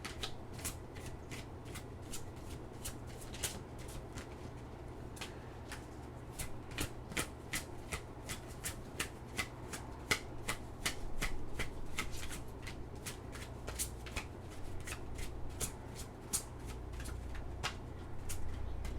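Tarot cards shuffled by hand in a long, steady run of crisp riffling flicks and soft slaps, close and fairly quiet, with no voice over them.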